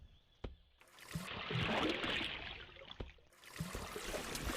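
Flowing water in the video game Colony Survival: a steady, fairly loud rushing wash that swells in the middle, with a few sharp clicks over it and no talking.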